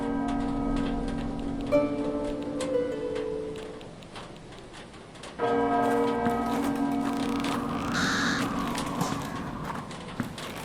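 Church bells ring in a video game, the tolling sustained and layered with a steady ambient hum, fading midway then swelling back in with a brighter, louder peal near the end.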